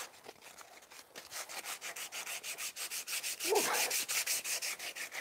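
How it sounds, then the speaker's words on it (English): Wood being sanded by hand with cheap, poor-quality sandpaper, a steady rhythmic back-and-forth scraping of rapid even strokes, close and moderately loud, with no other sounds. "God, that's awful sandpaper, that is."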